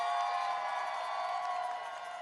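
A crowd cheers and shouts at an outdoor opening celebration for the Obama Presidential Center in Chicago, a steady, dense roar of many voices that holds fairly level and eases slightly toward the end.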